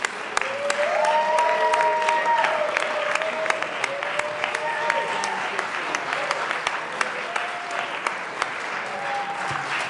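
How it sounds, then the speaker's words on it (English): Legislators in the Colorado House chamber applaud for about ten seconds, a dense, steady patter of clapping with sharp individual claps standing out, while voices murmur faintly beneath. "I think we should give them a big round of applause."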